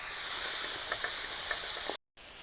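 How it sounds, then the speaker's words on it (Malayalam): Mixed vegetables sauté in oil for sambar with a steady, close sizzle and a few light stirring taps, then a brief cut to silence near the end. "ഈ ഓയിൽ എണ്ണയിൽ നന്നായിട്ടൊന്ന് വഴറ്റിയെടുക്കുക എല്ലാ വെജിറ്റബിൾസും"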